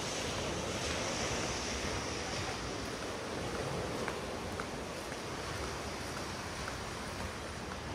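Calm Black Sea surf at Ogonek beach in Adler after a storm washes in as a steady, even wash of waves, with wind rumbling across the microphone throughout.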